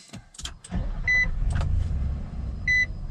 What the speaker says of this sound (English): with my foot on the brake, let's go ahead and start this up